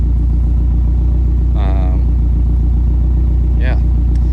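A car engine idling after warm-up with a steady, loud, low droning rumble, while a person's voice briefly cuts in twice over the continuous tone.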